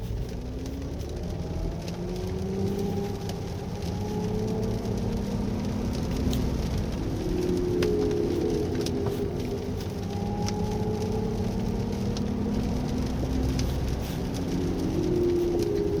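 Heavy rain drums and patters on a Mercedes-Benz EQE350 Plus electric car while it drives along a winding road, a steady wash of rain and road noise throughout.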